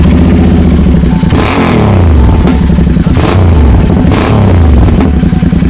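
A Royal Enfield Continental GT motorcycle engine running loud and close, with a thumping idle broken by several rising and falling revs in quick succession.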